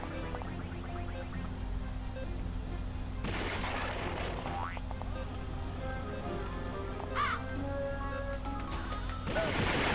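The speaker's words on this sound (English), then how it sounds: "Nice, I actually got the Dracula with the explosion" An explosion in the N64 video game Ms. Pac-Man: Maze Madness, heard as a sharp burst around the middle over constant game music and effects, with further bright game chimes after it.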